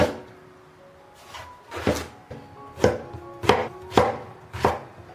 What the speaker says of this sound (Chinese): 然后给它切成小条。